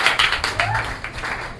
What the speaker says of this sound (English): So Abby, give Abby a round of applause.